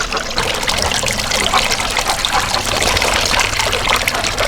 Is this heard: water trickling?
yes